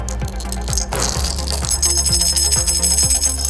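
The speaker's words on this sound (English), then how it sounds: "when it rattled, you could hear the bells loud" Six small metal bells glued and sewn inside a blind soccer ball, jingling and rattling loudly as the ball is shaken, with bright metallic rings over rhythmic knocks and no talking.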